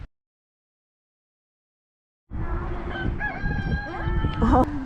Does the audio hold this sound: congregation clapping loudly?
no